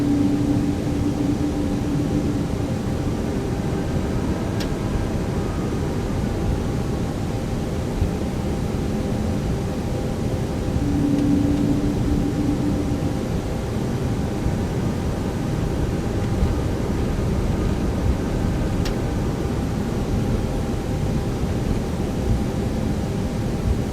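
ToLiSS A320neo taxiing in X-Plane 12, a continuous low engine drone and broadband hiss with faint brief tonal whines, steady and unvoiced throughout.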